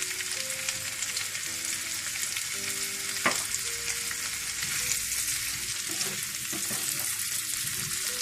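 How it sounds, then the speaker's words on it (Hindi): Boiled potatoes fry in a pan over high heat, a steady close sizzle and crackle with occasional stirring scrapes and clinks, without any talking. "आपने इसे तकरीबन 2 से 3 मिनट तेज आंच पर आपने इसे फ्राई कर लेना है"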